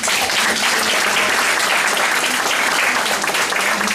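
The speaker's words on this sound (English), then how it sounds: "So please join me in a big round of applause again for her." Dense, steady applause from a seminar audience at a senior summer school event, loud and continuous throughout with no voices standing out.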